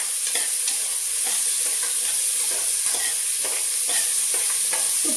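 Sliced onions fry in ghee over a low flame, a steady dense sizzle broken by a few soft stirring scrapes, close and even throughout with no voices.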